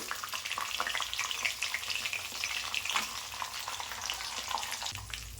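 Urad dal and peanuts fry in hot oil for lemon rice, giving a steady, busy crackling sizzle with small pops and occasional stirring scrapes, close and continuous with no voices.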